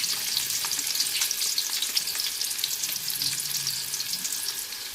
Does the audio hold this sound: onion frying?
yes